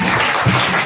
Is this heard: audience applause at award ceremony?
yes